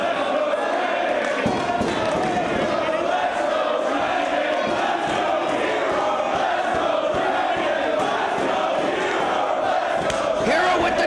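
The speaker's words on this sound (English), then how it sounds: "Some of this crowd from CZW starting to get behind Chris Hero" A wrestling crowd at a CZW-linked Ring of Honor match between Chris Hero and Bryan Danielson keeps up a steady, loud roar of cheering and shouting, dense and continuous throughout with occasional thuds mixed in.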